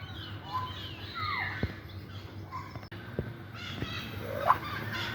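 Birds at the Dhaka zoo, near black parrots, call in short scattered cries and chirps at moderate distance over a low steady background hum, with no talking.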